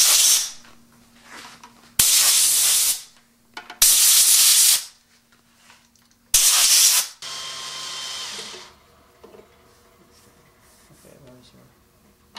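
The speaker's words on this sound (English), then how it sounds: "the first thing we want to do is blow out our headrest holes" Compressed air blasts out the headrest holes of a wooden chair during glue-up, several loud hissing bursts of a second or two each, separated by pauses, with quieter shop noise and faint talk following.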